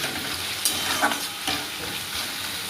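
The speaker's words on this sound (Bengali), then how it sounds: "আর রসুনটা একটু ভাজা ভাজা হয়ে গেছে" Crushed garlic fries in a pan for a village-style chicken curry, giving a steady close sizzle with light stirring scrapes and no voices.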